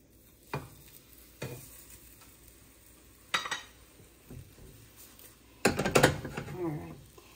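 A keto breakfast pizza base sits in a pan with a faint background sizzle, broken by several sharp clanks and scrapes of a utensil and pan as it is flipped, the loudest burst near the end.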